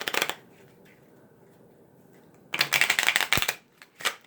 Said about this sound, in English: whenever you do a riffle or a shuffle,